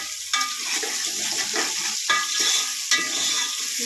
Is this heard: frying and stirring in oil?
yes